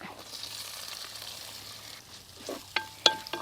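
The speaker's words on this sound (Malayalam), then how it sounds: "ഞാനിതിലൊരു പത്ത് ഇരുപത്തഞ്ചോളം ചെറിയ ഉള്ളി ചതച്ചിട്ടാണ് ഇട്ട് കൊടുക്കുന്നത്" Crushed small onions (shallots) frying in a pan with ginger, garlic and chillies give off a soft, steady sizzle, followed by a few sharp scrapes and clinks of a spoon against the pan.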